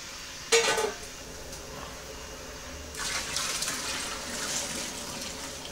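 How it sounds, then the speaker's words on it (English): Wort from the first runnings trickles and drips from a mash tun during an all-grain black IPA brew. A short splashing burst comes early, then quieter steady dribbling and light gushing follow, with no voices. "A little bit dripping out still, not much."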